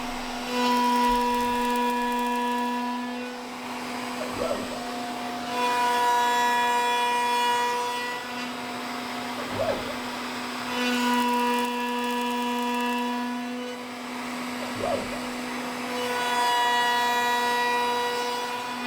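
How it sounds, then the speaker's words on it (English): A CNC machine cuts the flat base of a wooden platter, its spindle holding a steady, tonal whine with a soft rubbing cut beneath it, dipping briefly about every five seconds as the tool passes change. "now I'm going to set up the tool path to cut the flat bottom so that the platter has a base to sit on"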